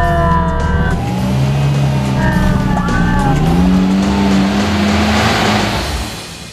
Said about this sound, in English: we're going to try and get up this really big incline